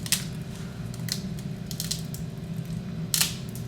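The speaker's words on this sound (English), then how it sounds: "The glass is kind of cool too. It's like, just shatters now." Shattered safety glass crunches and cracks as a Dodge Hellcat bought at auction is dismantled, with several sharp bursts at irregular intervals over a steady low mechanical hum.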